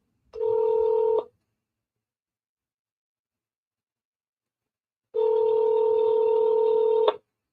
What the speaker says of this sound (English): Let's try to double dial that guy.